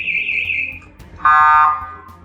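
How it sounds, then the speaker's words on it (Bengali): A motorcycle anti-theft alarm sounds in a garage, a loud, close electronic wail: first a high steady tone, then a harsher, lower buzzing tone that cuts off abruptly. "এ সময় বাইকের অ্যালার্ম বেজে উঠলে সেটি খুলে ফেলা হয়।"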